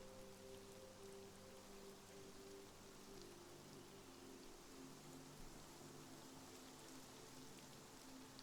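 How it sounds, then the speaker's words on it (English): Rain falls in a steady, dense hiss of drops on a surface, faint and continuous throughout, with a low tonal hum underneath and no voices. "Listen to that nice rain noise."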